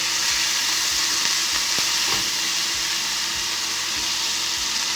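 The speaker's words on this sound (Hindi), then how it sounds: "ये लहसुन अदरक का पेस्ट, ये थोड़ा सा इसको फ्राई कर लेते हैं" Garlic ginger paste sizzles and spatters steadily in a hot pan, with occasional stirring scrapes, close and continuous with no talking.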